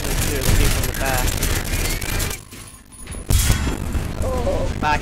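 Gunfire and explosions in the War Thunder video game battle, a dense, loud stream of shots with a brief lull before the firing picks up again, with a voice talking over it.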